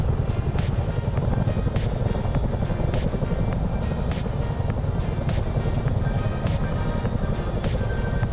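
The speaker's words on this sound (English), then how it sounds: "Especially over the chopper sounds." Chinook helicopter rotors in Microsoft Flight Simulator 2020 give a steady, loud low-frequency drone with a rapid rhythmic thudding. It runs unbroken through the whole stretch, and nobody speaks over it.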